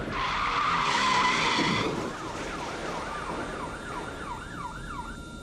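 A car driven recklessly during a police pursuit skids loudly on the road, tyres screeching for a couple of seconds before a wailing police siren continues behind it.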